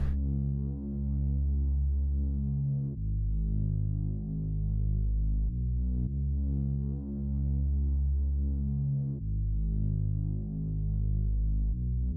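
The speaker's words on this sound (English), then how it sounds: "I added a bass from the One Shot Kit" A deep bass one-shot sample pulses and throbs in repeating sustained hits, loud and alone, with a steady rhythmic pattern, played in FL Studio.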